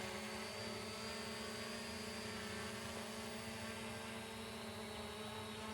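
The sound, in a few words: CZ25 Max camera drone flying in wind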